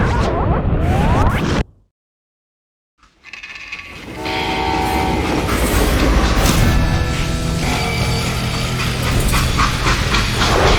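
A train rumbling along rails in the Western video game Call of Juarez: Gunslinger, a loud, dense, continuous clatter and roar that cuts out briefly into silence, then swells back to a steady heavy rush.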